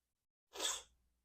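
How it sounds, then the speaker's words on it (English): A single sharp sneeze bursts out close by, short and forceful, followed by quiet. "I feel a sneeze coming"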